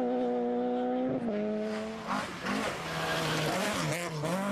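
A front-wheel-drive Peugeot 208 R2 rally car revs hard on a forest stage, its engine note climbing and dropping through gear changes, with tyre scrabble and gravel noise as it passes close by.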